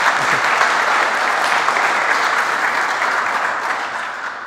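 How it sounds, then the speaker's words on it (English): Conference audience applauding after a talk, dense clapping at full strength from the start that slowly thins and fades over a few seconds. "Give a round of applause for Sai Dasari."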